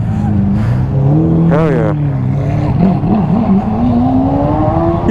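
A Ducati Panigale V4S motorcycle at a New Year's Day supercar meet in London, engine revving in loud rising and falling sweeps, close by, with a brief shouted exclamation partway through.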